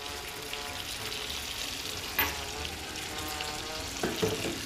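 Chayote sautéing in a pan with sugar, cinnamon, salt and black pepper, a continuous close sizzle with occasional brief clinks and stirring scrapes, no one talking.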